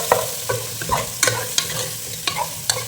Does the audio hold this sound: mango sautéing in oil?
yes